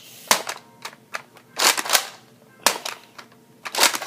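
A Nerf toy gun fires foam darts in a series of sharp, close pops and clicks, some spaced singly and some in quick pairs, with mechanical priming clatter between shots and no talking.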